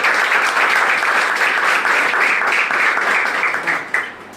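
Sustained, loud applause from an audience at a public felicitation for two social workers in Vita, many hands clapping steadily for about four seconds before tapering off.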